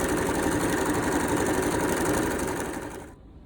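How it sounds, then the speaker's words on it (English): A sewing machine stitches a quarter-inch seam in fabric for bias binding. Its fast, steady mechanical whir runs close and even, then stops abruptly near the end. "Now take this to your sewing machine and sew with a 1/4 inch seam."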